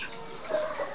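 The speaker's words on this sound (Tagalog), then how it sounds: "tingnan niyo po itong alaga kong manok mga idol" A pet chicken suffering from a cold makes a short, soft clucking sound close by, ending in a brief louder burst, all within about a second.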